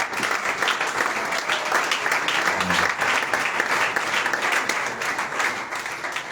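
A church congregation applauding to acclaim the word of God, sustained dense clapping from many hands filling the room at steady loudness.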